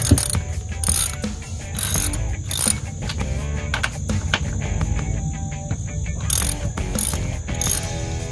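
A ratchet clicks in repeated rapid bursts, backing bolts out of the wheel area of a Max IV 6x6 amphibious ATV, loud and close with short pauses between strokes.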